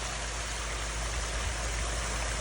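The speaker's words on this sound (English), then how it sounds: "we did get the water flowing" Water from a newly built garden pond waterfall, fed by two pumps, pours and cascades in a steady, close, broadband rush with no voices.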